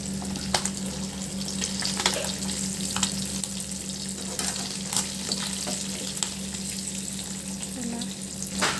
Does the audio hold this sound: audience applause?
no